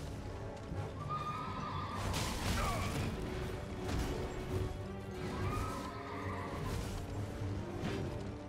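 Horse neighs and galloping hooves in the Elden Ring video game, whinnies rising over a steady dense bed of hoofbeats and combat clatter, loud and close throughout.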